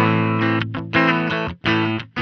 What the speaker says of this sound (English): it's got just a dry guitar signal recorded off USB